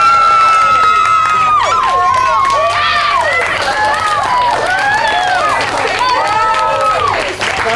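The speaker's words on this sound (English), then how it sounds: "First, applaud as loud as you want for Salish." A crowd of children claps and cheers loudly in a voting round, with high-pitched shrieks and whoops rising and falling over continuous applause throughout, close and energetic.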